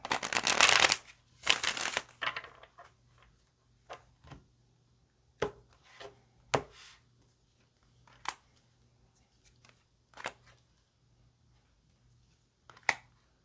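Tarot cards are shuffled close by in two brisk riffling bursts, followed by a string of soft, separate taps and flicks as cards are squared and laid down, with no talk.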